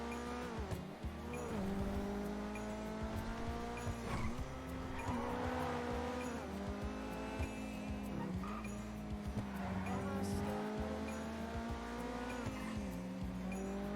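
In GTA V on NoPixel, a game car's engine revs and shifts through rising, falling tones while tires squeal and skid, steady and loud, with occasional talk over it.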